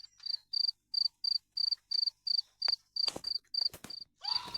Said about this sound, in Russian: Сверчок опять.